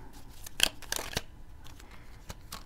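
Small tarot cards being shuffled by hand, with a few sharp snaps and soft riffling bursts spread unevenly across a quiet background.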